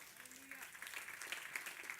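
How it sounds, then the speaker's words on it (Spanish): Church congregation applauding for the Lord: faint, distant, soft clapping spread through a quiet hall, with a brief tonal sound early on. "Den un aplauso al Señor."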